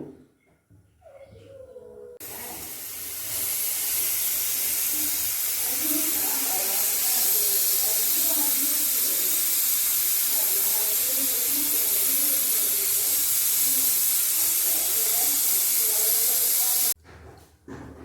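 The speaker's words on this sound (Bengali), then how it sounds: "প্রেসার কুকারটা বসিয়ে দিলাম, 2-3টা সিটি আসলে নামিয়ে নেব।" A pressure cooker on the stove lets out a long, loud hiss of escaping steam that starts abruptly and holds steady for most of the stretch before cutting off.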